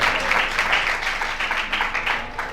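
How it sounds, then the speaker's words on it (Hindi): An audience at a devotional gathering in the presence of a Jain monk claps in a steady, loud round of applause that continues without pause throughout. "एक बार जोरदार ताली दिया"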